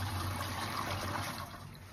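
Seventy-percent ethanol pours into a cleaning-gel mixture, making a close, continuous liquid rush and trickle that eases off slightly toward the end.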